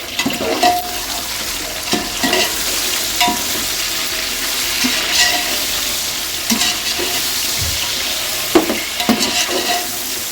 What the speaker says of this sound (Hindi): चिकन का पानी खुश्क होने तक इसको भूनते हैं।